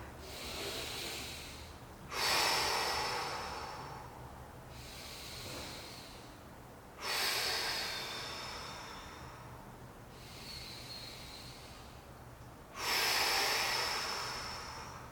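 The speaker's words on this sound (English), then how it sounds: "Big inhale and then big exhale as you pull in and wrap" During a postpartum core workout, deep breaths come close to the mic. Three long, loud exhales, each a forceful hiss that fades out, alternate with quieter inhales against a faint background hum.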